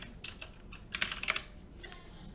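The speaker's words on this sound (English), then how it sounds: "after we're done typing our name" Short bursts of clicky keystrokes on a computer keyboard as a name is typed, close and quiet, a quick irregular cluster of taps with a few scattered presses after, no voice.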